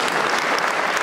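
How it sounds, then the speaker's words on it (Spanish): A political gathering's audience breaks into strong applause, a loud, close and dense burst of many clapping hands throughout the brief moment. "Un fuerte aplauso para los compañeros de la Cusco Medio"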